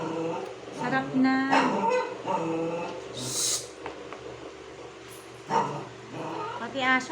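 A dog whimpers and yips in short, high bursts near a kitchen where a tuna sandwich filling is being mixed, over ongoing talk.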